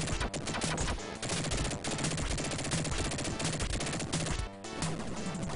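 Rapid, continuous gunfire from the Dick Tracy game on the Sega Genesis, a dense stream of retro shots and game sounds filling the whole stretch at steady loudness with no talking.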